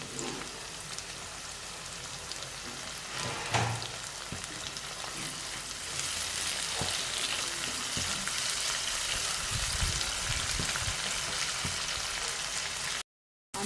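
Tomato paste and onions sautéing in a pan give a steady, close sizzle and crackle. The frying grows a little fuller midway, with occasional stirring clatter, and no one speaks.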